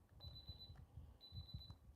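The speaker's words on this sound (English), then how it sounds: "Sorry, it's my alarm." A phone alarm goes off in two repeated high-pitched electronic beeping bursts, quiet and steady, with low background rumble and no talking.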